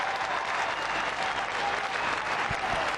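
Football crowd at an Adelaide Crows versus West Coast Eagles match cheering and applauding, a dense steady roar of clapping and voices filling the stadium throughout.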